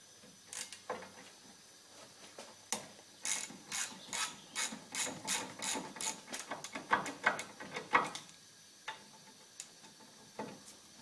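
Rapid clicking of a hand ratchet loosening the two 17 mm bracket bolts on a car driveshaft, coming in bursts of quick strokes with short pauses between them, close and fairly quiet.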